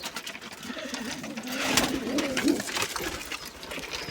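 Young posta pigeons coo softly inside a loft, giving a low, close, rolling call against faint background rustling.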